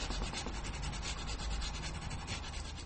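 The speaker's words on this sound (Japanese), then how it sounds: "サンドペーパーでもですね、この角の面取り部分はしっかり落としてください。" Sandpaper rubs an oiled bone guitar nut for a Fender Jaguar, chamfering its corners in quick, steady back-and-forth strokes, a close, soft raspy scratching with no talking.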